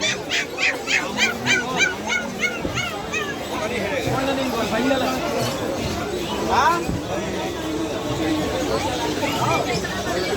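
Dogs barking and yipping in the Galiff Street dog market in Kolkata, several animals overlapping, with crowd chatter and the odd horn in the background.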